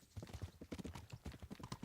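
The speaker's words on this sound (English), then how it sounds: "That's a very prancy horse you've got there." A horse's hooves clip-clop in a quick, bouncy, prancing rhythm in Kingdom Come: Deliverance, steady and fairly close, with no other sound competing.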